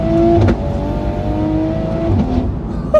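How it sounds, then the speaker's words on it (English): Top-mount turbo Toyota A90 Supra engine roaring loud and steady under hard driving, with a brief blip around a downshift early on and another near the end. "That's got to be one of the most aggressive sounding downshifts."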